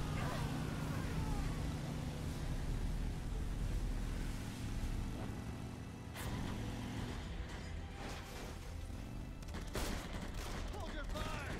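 Gunfire in the video game Beyond: Two Souls, bursts of shots and sharp cracks over a dense rumbling game soundscape, with voices speaking intermittently.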